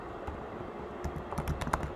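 A computer keyboard clatters with quick, quiet keystrokes in a short uneven burst, heard alone at close range.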